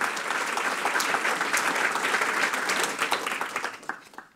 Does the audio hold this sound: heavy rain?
no